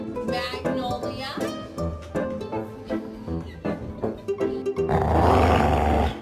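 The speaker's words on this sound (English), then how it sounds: "Are you growling at Mom?" A dog growls and roars in a low, rough, drawn-out rumble that builds to a louder, noisier burst near the end, with voices talking around it.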